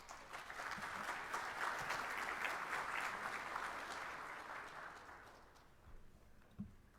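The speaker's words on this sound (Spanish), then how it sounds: "Recibámoslos con un fuerte aplauso." A large audience at an international security and defense symposium breaks into strong, sustained applause that gradually thins and fades toward the end, leaving a few scattered claps.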